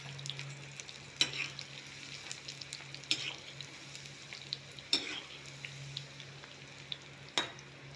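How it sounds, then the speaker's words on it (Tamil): Bitter gourd slices deep-frying in hot oil for chips, a steady bubbling sizzle under a low hum, broken by a few sharp utensil clinks and spatters, with no talking. "இப்போ எண்ணெய் காஞ்சிட்டு கொஞ்சம் கொஞ்சமாக போட்டு பொரிச்சு எடுத்துக்கலாம்."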